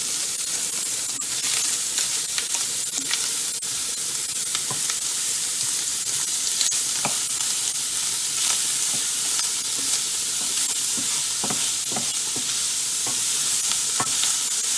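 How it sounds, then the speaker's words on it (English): Bacon fries in a hot pan with a loud, continuous close-up sizzle, dense hiss and crackle, and occasional sharper pops and stirring clicks throughout. "We're going to go ahead and get the bacon in here. Get that cooked up."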